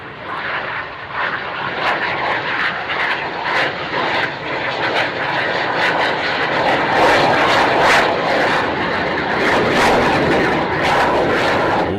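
A solo aircraft flying an aerobatic crazy flight at an air show, its engine roaring loud and steady for the whole stretch, rising and falling as it manoeuvres, with crackling bursts on top.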